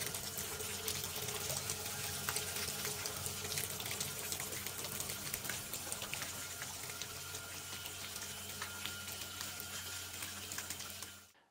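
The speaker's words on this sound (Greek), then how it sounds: "όταν ανοίξουμε τη βρύση βλέπουμε και στο σχετικό βίντεο ότι πλένεται στο εσωτερικό ο αναρροφητήρας αλλά και ο κάδος συλλογής" Tap water runs steadily through the inside of a Cifarelli V1200E professional nut vacuum, rinsing its suction tube and collection bin: a continuous, close hiss of flowing and splashing water that stops abruptly at the end.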